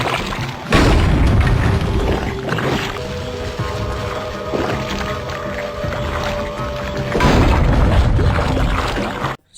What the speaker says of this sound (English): The gunpowder is used to light fireworks, defeat El Scariachi, and to blow up these thorny vines in the swamp.